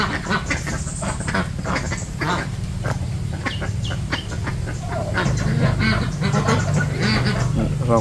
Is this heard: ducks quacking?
yes